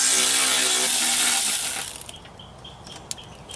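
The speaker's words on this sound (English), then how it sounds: "we're gonna remove this 10mm bolt." A short ratchet working a 10mm bolt during alternator removal on a Honda CR-V 2.4: a loud broadband whir for nearly two seconds, then quieter scattered clicks and taps of metal close by.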